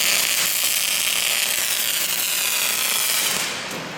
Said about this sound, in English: Just pull the trigger and do some welding.